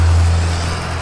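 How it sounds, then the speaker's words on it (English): A 1965 Chevrolet Impala passes nearby, giving a steady, loud, low engine rumble that lasts about a second. "It's our buddy Dave going by in a 65 Impala he just bought from us"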